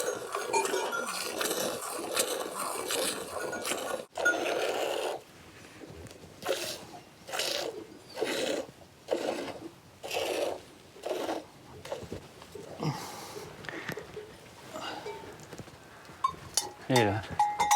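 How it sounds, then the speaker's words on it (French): Rhythmic squirting and rasping strokes repeat in steady pulses as goats are milked by hand in the mountains, milk jetting into a pail, with a voice speaking over parts of it. "La traite se passe à la main."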